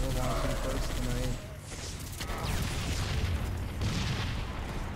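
A grenade goes off in Halo with booming blasts amid bursts of gunfire, loud and chaotic, while voices talk excitedly over the action.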